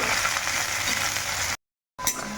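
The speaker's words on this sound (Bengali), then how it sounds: "এখন এর মধ্যে দিয়ে দেব এই যে কুচিয়ে রাখা পেঁয়াজ আর কাঁচা লঙ্কা তো এখন এটাকে একটু ভালো করে ভেজে নেব" Chopped onion and green chilli frying in hot oil, a dense steady sizzle that cuts out briefly and then resumes, close and with no talking.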